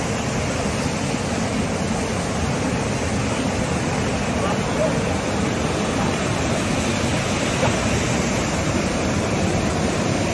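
A waterfall pours out a dense, steady roar of rushing water, loud and unbroken for the whole stretch, with no voices rising above it.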